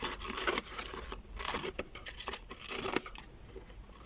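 Scissors snip and rustle through paper or card to trim off a black line edge on a rugged, battered-look craft piece, a run of close, crisp cuts and crinkling with no talk.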